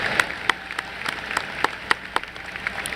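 A welcome gathering of new students offers audience applause, heard as scattered, fairly distinct claps at moderate distance, rather thin and rhythmically loose.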